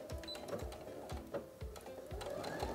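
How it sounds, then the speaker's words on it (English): Sewing machine stitching about 1/8 inch from the edge along the back of a pair of shorts' waistband, running at a slow steady pace with a rhythmic mechanical chatter and repeated low thumps, close and continuous. "this time we're gonna sew about 1/8 inch from the edge of this fabric right here"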